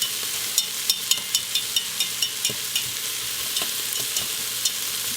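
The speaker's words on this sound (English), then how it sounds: "your onions are starting to sweat with that garlic, and that's what we want. We want to get a nice saute on them onions and garlic" Onions and garlic sautéing in a pan on a double burner, a bright continuous sizzle with a run of regular light taps from a utensil stirring, close and fairly loud, with no talking.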